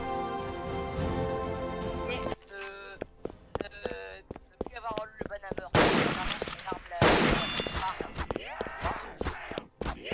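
Rapid video game gunfire from an overpowered weapon crackles in loud bursts, first a sustained rattling stream, then scattered sharp shots and heavy blasts, with voices talking over and between the shooting.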